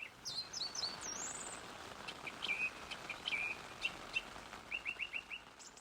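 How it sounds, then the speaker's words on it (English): Several birds chirp and trill in quick bright phrases over a soft, steady hiss of rain, the calls coming in short bursts from nearby. "those birds don't sound remotely disappointed being in the rain. They still sound their cheery selves."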